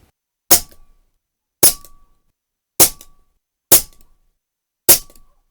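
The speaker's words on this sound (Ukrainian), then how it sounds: "зараз 5 пострілів хевіками по правій нижній мішенці" Five sharp Snow Peak PP750 air rifle shots with heavy pellets ring out at even intervals, each ending in a short metallic clang from the struck lower-right target.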